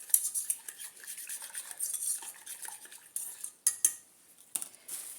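A spoon stirs a natural black seed hair dye mixture in a bowl, giving light uneven clinks and scrapes, close and fairly quiet, with a few sharper taps.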